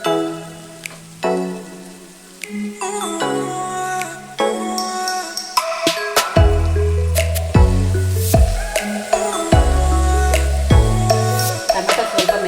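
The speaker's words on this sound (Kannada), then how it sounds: "ಈಗ ಇದಕ್ಕೆ ನಾನು ಟೊಮೆಟೊ ಹಾಕ್ತಾ ಇದ್ದೀನಿ." Tomato drops into bitter gourd frying in a pan, bringing close wet squishes and drips, then a stronger sputtering sizzle broken by repeated scraping stirs.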